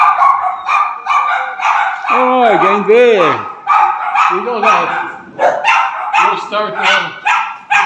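A big dog barks repeatedly at a construction site where an old cement floor is being worked on, loud and close, with rhythmic woofs and some whining yips, while people talk over it.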